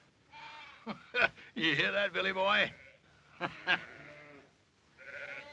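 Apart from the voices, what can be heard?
sheep bleating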